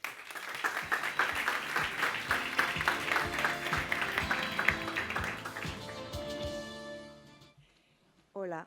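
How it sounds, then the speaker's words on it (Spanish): Audience at a book presentation in Madrid breaks into sustained, dense applause that fills most of the clip, then tapers off into quiet before a brief voice at the end. "os pido un fuerte aplauso para María López Herranz."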